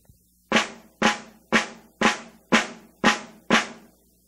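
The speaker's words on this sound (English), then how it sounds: "One of the nice things about that sound is that the right-hand flam and the left-hand flam are very even" Seven evenly spaced snare drum flams struck with sticks, each a crisp doubled hit, played alone at a steady, unhurried pace.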